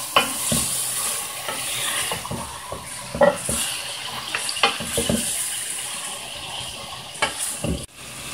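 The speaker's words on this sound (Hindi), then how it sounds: "तो 5 मिनट के लिए भूनेंगे अच्छे तरीके से।" Chicken for white chicken korma being stir-fried in a pan: a constant sizzle broken by repeated scraping and clacking strokes of a spatula, up close and with no talking.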